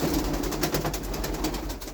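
Pigeons cooing in a loft in Mariupol, soft low repeated coos close by over a murmur of other birds, with no talk.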